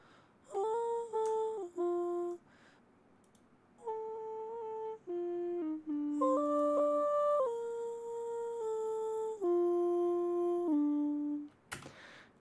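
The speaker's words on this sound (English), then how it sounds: "I'm gonna play them with autotune" Self-recorded autotuned vocal chops for a beat: short sung phrases with stepped, pitch-corrected tones sliding between held notes, clear and close, alone with brief gaps.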